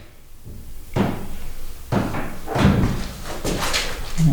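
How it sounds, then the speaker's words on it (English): Inside an old county jail, a door bangs and knocks shut in several sharp, fairly loud bursts over a few seconds, with a hollow, echoing background. "That door just moved like 3 times after it closed."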